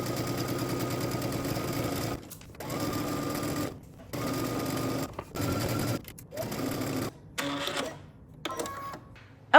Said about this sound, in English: let's head to the sewing machine. We're going to stitch using 5/8 of an inch seam allowance